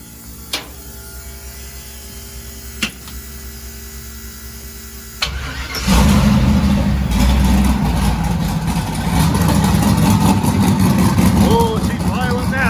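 A car engine is cranked and fires up after its ignition timing was changed, settling into a loud, rough idle with uneven pulsing; a few clicks and a steady hum come before it, and talking is heard in the background.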